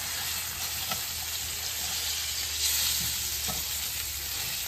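A steak cooks on a hot griddle with a steady, moderately loud sizzle and hiss, with a few faint taps and no talking.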